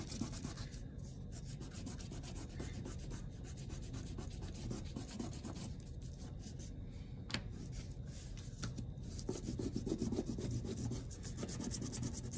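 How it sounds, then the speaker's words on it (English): Crayons laid on their sides are rubbed back and forth across a surface, giving a continuous, close, rhythmic scratchy rubbing that keeps up through the whole stretch with no talking. "Lay them on their side so that they are rolly, and then we're going to rub them back and forth across our surface."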